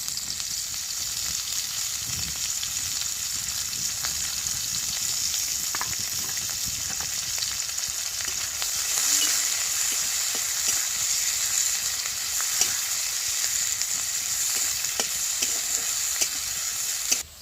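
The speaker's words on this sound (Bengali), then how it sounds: "শুকনো লঙ্কা তেজপাতা ফোড়ন দিয়ে দিচ্ছি, জিরা পেঁয়াজটা দিয়ে দিচ্ছি।" Onion, cumin, dried red chilli and bay leaf fry in hot oil with a steady, close sizzle and occasional stirring clicks throughout, with no speech.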